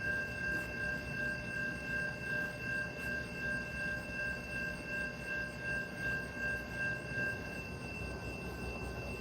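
Norfolk Southern northbound freight train at night in Dalton, Georgia, a steady low rumble of rolling cars with a sustained high tonal whine, heard from a moderate distance with gently pulsing rhythm.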